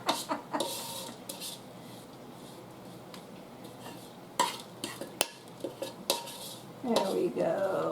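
Utensil scraping around a bowl while making chunky granola, a series of sharp clinks and scrapes coming in bursts with quiet gaps, close and fairly loud.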